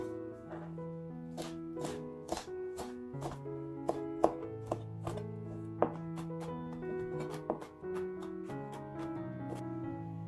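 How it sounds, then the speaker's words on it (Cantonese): A knife chops soaked, drained wood ear fungus into small pieces on a cutting board, a steady run of quick, crisp, close taps with a few louder strokes, and no talking over it. "你將木耳切成細粒"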